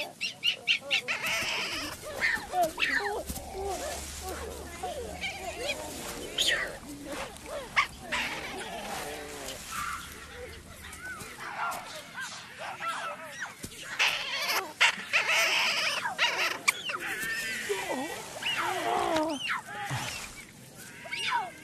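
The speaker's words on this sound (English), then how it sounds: "The shrieking rouses Braveheart." Gelada baboons shriek and chatter in repeated harsh, overlapping calls throughout, loud and close, mixed with voices talking.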